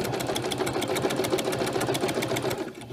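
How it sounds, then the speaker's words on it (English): A sewing machine runs steadily while stitching a fabric mermaid tail, a fast even rhythm of close mechanical ticks and motor hum that eases off at the very end. "So just keep sewing."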